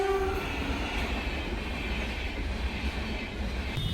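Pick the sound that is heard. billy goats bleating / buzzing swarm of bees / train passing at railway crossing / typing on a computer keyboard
train passing at railway crossing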